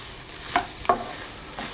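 Flour and minced steak cooking in a pan, with a soft sizzle and a few quick scraping stir strokes spaced apart, close and fairly quiet with no talking.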